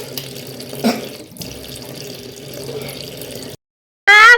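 Tap water runs steadily into a sink while someone washes their eyes, a close, loud, continuous splashing that is cut off briefly near the end before a sharp burst resumes.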